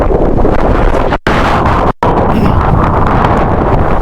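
Loud, close wind roaring across the microphone while riding an electric unicycle, broken by two brief dropouts, with a constant low rumble and no speech.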